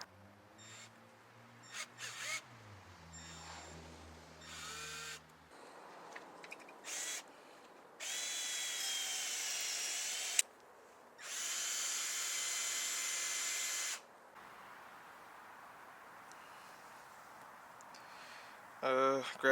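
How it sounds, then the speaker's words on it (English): A power drill drilling a hole through a tricycle part whirs in two sustained high-pitched bursts of a few seconds each, with quieter clatter and brief handling noises around them. "And I just gotta drill a hole through the middle."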